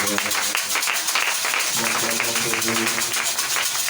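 Congregation in a church worship service applauding and acclaiming together, a dense continuous wash of clapping over music and voices throughout.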